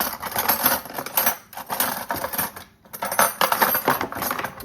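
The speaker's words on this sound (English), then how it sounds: "just grab 1 spoon so we can scrape out the" A metal spoon scraping garlic out of a container while cooking Jamaican curried goat, with quick clinking, scratchy strokes that come in bursts and then stop briefly.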